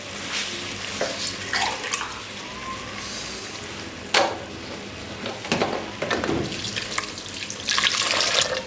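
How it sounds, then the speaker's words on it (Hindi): Water poured into a cooking pot holding washed masoor lentils (red lentils) for spicy daal, gushing in uneven bursts with splashes and brief pauses, loud and close. "अब इसमें पानी ऐड करेंगे।"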